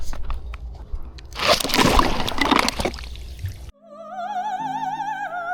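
Sea water on the south coast shore is scooped and splashed for about two seconds of loud, close sloshing, after a quieter stretch of lapping and before music takes over.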